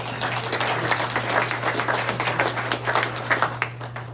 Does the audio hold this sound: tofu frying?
no